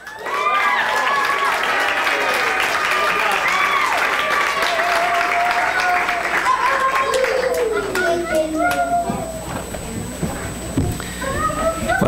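An audience applauding students at a school program, with sustained loud clapping from a full room that runs for several seconds before tapering off, mixed with children's voices and chatter.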